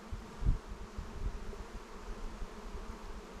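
Honeybees hum steadily around newly installed hives, a low continuous drone with a couple of slightly louder passes near the start, quiet and close with no voices.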